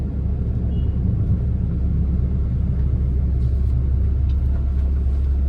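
A 22-year-old Tata Indica petrol car accelerates through Mumbai city streets, its engine giving a steady, loud low rumble heard from inside the cabin, with no voices over it.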